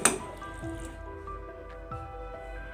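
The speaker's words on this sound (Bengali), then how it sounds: "জিরে গুঁড়োটাকে ঝোলের সঙ্গে ভালো করে মিক্সড করে দিয়ে দিতে হবে" Cumin powder is stirred into a soybean, potato and pointed gourd curry gravy, giving soft wet squelching and slurping sounds with a faint clink of the utensil at the start, close and fairly quiet.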